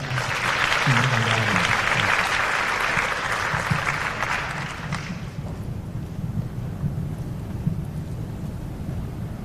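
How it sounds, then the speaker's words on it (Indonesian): An audience of student council leaders applauds during a question-and-answer session with Anies Baswedan in Jakarta, a loud, dense burst of clapping that rings out for about five seconds and then fades into low rumbling room noise. "Tepuk tangan dulu buat saya yang tadi sudah terlibat."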